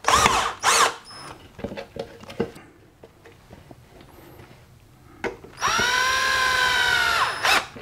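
Power screwdriver driving screws to fasten a 3D printed slip-casting mold: short bursts of motor whine, scattered clicks and knocks, then a long rising whir near the end, close up with no speech.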